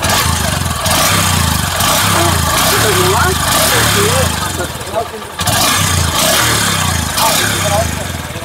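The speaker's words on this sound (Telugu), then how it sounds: "ఇంజన్ ఆన్లో ఉంది, ఒకసారి ఇంజన్ యొక్క బీటింగ్ వినొచ్చు" A 2025 Honda SP 125 motorcycle engine idles close by with a steady, rhythmic thump, briefly dipping once before settling back into its even beat.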